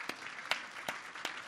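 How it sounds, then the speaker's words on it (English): At a business networking event, a few hands clap for military veterans and their spouses, four distinct claps at an even rhythm over a quiet room. "Let's give it a big round of applause to our military veterans"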